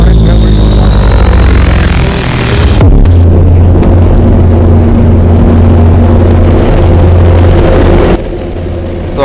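Strong wind roars against the microphone while riding a motorbike on a city road in Hyderabad, a loud, continuous rumble of buffeting air. An engine drone shifts partway through before the wind noise drops near the end.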